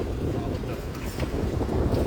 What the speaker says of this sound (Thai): ตอนนี้ลมแรงมาก